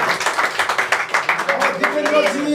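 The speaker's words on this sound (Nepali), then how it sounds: "तपाईँहरू सबैले ताली बजाएर अभिनन्दन गरिदिनुहोस्" Audience applause for a guest at an event, brisk steady clapping from a crowd with a voice speaking over it through the latter half.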